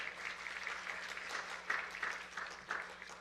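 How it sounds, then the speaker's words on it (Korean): A church congregation applauding during a Sunday service, a steady wash of clapping at moderate distance that swells slightly near the end. "우리 박수로 환영하겠습니다"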